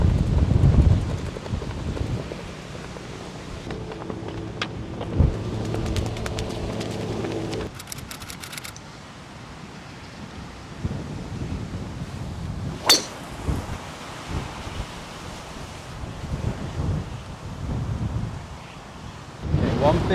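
Strong wind buffets the microphone on an open golf course, a steady rushing roar with gusty swells throughout, a brief metallic clink near the middle and a sharp click later, no one speaking.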